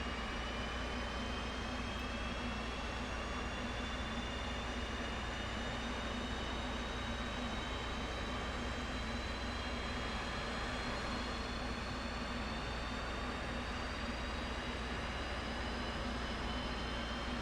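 On the deck of an aircraft carrier at night, an F-18 jet engine spools up with a steady loud roar and a slowly rising whine that continues unbroken, and no voices.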